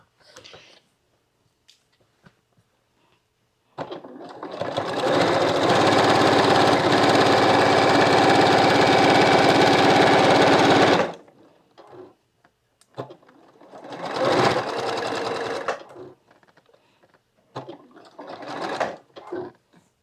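A sewing machine back tacks a seam on an African Queen quilt block. It runs loud and steady for about seven seconds, then gives two shorter stitching bursts after a brief pause.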